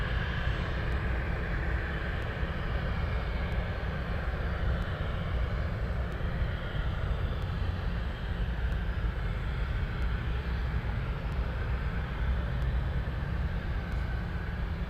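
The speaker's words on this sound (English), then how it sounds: "Someone else taking off as well. We have a small prop. It's a Grand Caravan." A Grand Aviation Grand Caravan, a small single-prop plane, taking off from runway 33 at Anchorage, a steady broad engine roar with a low rumble that holds constant and fairly distant, with no talk over it.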